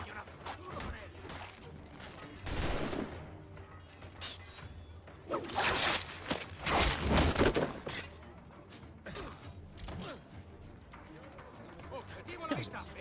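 Gunfire in the pirate game Assassin's Creed Black Flag: a few sharp, loud bursts and a cluster of shots rise over a busy layer of game sound, with someone talking throughout.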